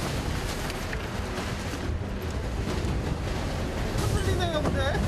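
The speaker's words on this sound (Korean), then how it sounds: "잠깐 사이에 잔잔했던 바다가 요동을 치기 시작합니다" Rough, choppy sea churns around an octopus fishing boat, a constant roar of wind and crashing surf close to the microphone, with faint voices coming through near the end.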